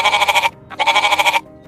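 A goat bleats twice in quick succession, each call a loud, wavering, nasal cry about half a second long, close up with no talking.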